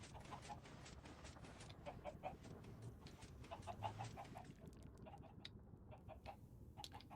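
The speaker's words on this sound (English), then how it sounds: "There go the chickens." Minecraft chickens cluck in a steady, busy chatter of short repeated calls across the whole stretch, fairly faint and mixed with game ambience.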